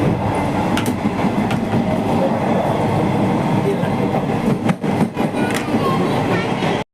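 Indo-Ceylon Boat Mail passenger train running at speed on its night route past Chengalpattu toward Melmaruvathur, with a loud, steady rumble of wheels and carriage noise throughout, briefly dipping near the end.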